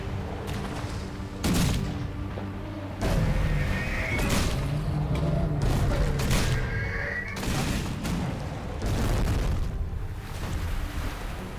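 Ship cannons boom again and again in a Risen 3 sea battle, heavy blasts rolling into one another amid crashing debris and a dense, continuous roar of in-game battle noise.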